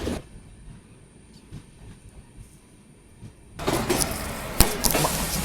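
A Matsyagandha Express, running late, pulls into a station on the coastal Karnataka main line in heavy rain. Faint rumble gives way to a sudden loud surge of train noise with wheel squeal and sharp metallic clanks.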